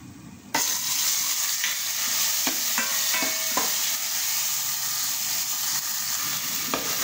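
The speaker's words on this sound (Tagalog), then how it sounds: "Konting oil lang. Tapos, ilagay ko na ang aking dinikdik na spices." Pounded spices such as candlenut and turmeric fry in a little oil for Indonesian-style balbacua, starting abruptly as a loud steady sizzle, with scattered scrapes and taps of a stirring utensil against the pan.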